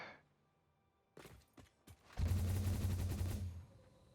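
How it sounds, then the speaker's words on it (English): Video game cannons fire in a quick sequence of sharp blasts, then a sustained loud barrage of booming shots runs for over a second before cutting off, with no talk over it. "Gotta love these cannons."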